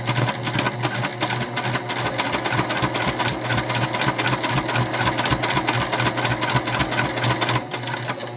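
A sewing machine runs steadily for about eight seconds, stitching a second line on a holiday makeup bag with the presser foot lined up on the previous stitch, a rapid even needle rhythm close up and continuous.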